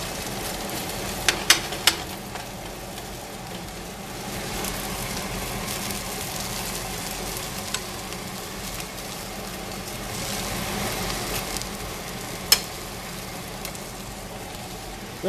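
Breakfast frying in a pan, a continuous soft sizzle with a few sharp clinks and scrapes of a utensil stirring, close by and moderately loud, no talking.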